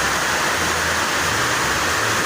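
Steady rain pours down without a break, a dense, even hiss that fills the whole stretch with no voices over it.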